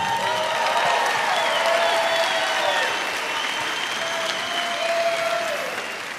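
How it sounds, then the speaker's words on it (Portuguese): A live awards-show audience applauds the band on stage, a loud, dense, continuous round of clapping with some cheering and a sustained musical tone underneath, easing slightly toward the end. "Uma salva de palmas para a incrível banda que está em cima do palco."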